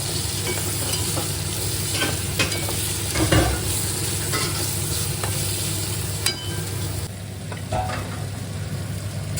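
Cluster beans (gavar) cooking in a home pan, with a steady sizzle and scraping stirring strokes throughout, loud and close, with no voices.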